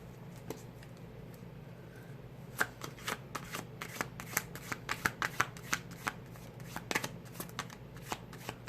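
A deck of tarot cards is shuffled by hand, a quick run of crisp riffling flicks and soft slaps close by, with no one speaking.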